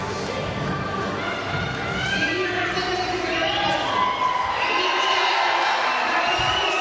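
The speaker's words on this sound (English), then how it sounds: "Here's the big cheer for the British team." A big arena crowd cheers and whoops for the British pair at the 2018 European Championships women's 10m synchronised diving in Glasgow. The roar is steady and sustained, with a commentator's voice faintly underneath.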